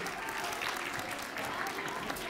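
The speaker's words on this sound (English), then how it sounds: "Let's give a big round of applause to our winners, Wesley," Audience at a mock trial competition applauding the winners, a continuous, even roar of many hands clapping throughout, loud and close with some crowd noise mixed in.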